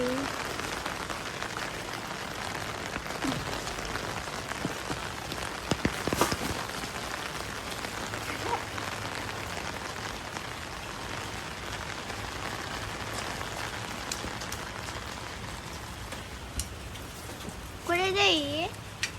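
Rain falls steadily on surfaces outdoors in Japan, a soft continuous patter under scattered nearby voices, with a brief louder rustle near the end.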